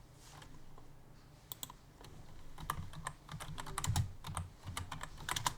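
Someone types a chat message on a computer keyboard, producing quiet, irregular bursts of clicking keys that grow busier toward the end, with no talking.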